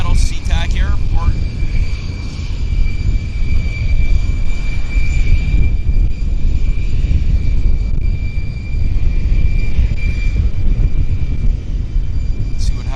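An airliner takes off from Vancouver YVR on a runway roll bound for Seattle SeaTac, its engines roaring loudly and steadily with a sustained whine above, while a voice talks over it at the start.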